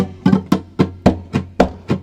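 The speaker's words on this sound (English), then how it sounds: "we could use our rasgueo technique to kind of mimic what those gypsy jazz guys are doing" Rasgueo strumming on a nylon-string guitar in a Mexican bolero lesson, close and loud, with seven sharp percussive strokes at a steady pace, a slap accent mixed into the pattern, and no talking.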